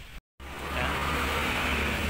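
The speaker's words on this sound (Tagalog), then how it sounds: "So paandarin muna natin itong Everest." A 2020 Ford Everest starting up before an engine bay wash: a brief dropout, then the engine catches and settles into a steady, fairly loud running drone with no talk.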